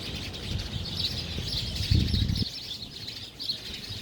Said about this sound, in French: T'entends ce concert d'oiseaux?